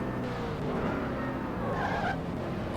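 Race car engine in the NASCAR Racing 2003 video game, running at steady revs in second gear while slowing onto pit road for tires and fuel, a continuous loud drone with a brief higher whine near the end.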